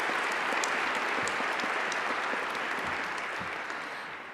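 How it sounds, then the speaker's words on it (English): Applause from a crowd at a school awards show, a dense, even wash of clapping that holds steady and then eases slightly toward the end, with no talking over it. "let's give them a round of applause for this wonderful program"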